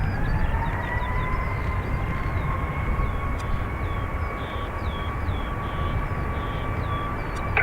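A Ryanair Boeing 737 Max 8 departing Dublin Airport, a loud, sustained jet roar with a steady whining engine tone, heard continuously from nearby as it takes off, with faint bird chirps in the background.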